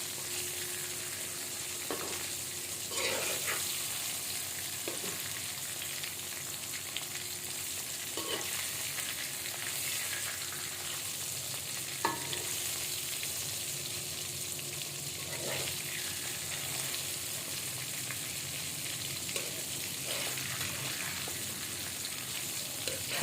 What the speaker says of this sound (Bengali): এখানে শারপুঁটি মাছ ভেজে নিচ্ছি।